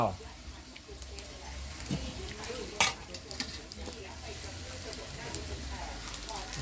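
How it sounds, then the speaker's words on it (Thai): Cow udder grilling sizzles in a steady, moderate hiss with scattered pops and crackles, while people talk over it. "ย่างพวงนม"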